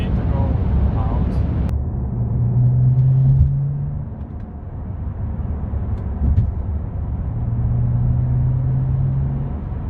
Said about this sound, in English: This car pulls like a fucking plane and it's so amazing.